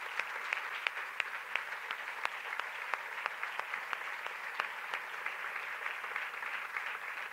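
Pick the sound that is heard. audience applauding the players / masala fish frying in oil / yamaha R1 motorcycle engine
audience applauding the players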